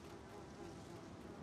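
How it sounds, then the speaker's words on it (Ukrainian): Insect flies buzzing in the video game Little Nightmares 2, a steady close droning hum that holds evenly for the whole moment with no talking. "Знову мухи."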